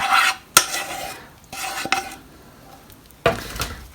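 Dried fruit being stirred into nut butter and honey sauce in a plastic Tupperware container: sticky, scraping strokes and sharp utensil knocks come in a few separate bursts with quiet gaps between them, close up and without talk.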